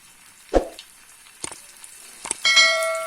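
Potato slices laid onto a hot oiled tawa, a few soft clunks and taps as they go down, then a bright crackling sizzle that rises and holds steady at close range.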